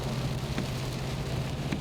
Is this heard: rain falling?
yes